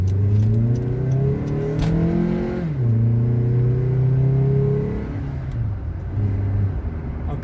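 A car is floored to full throttle with a pedal tuning device fitted, its engine droning loud and close, climbing in pitch, dipping briefly at a shift, then climbing again.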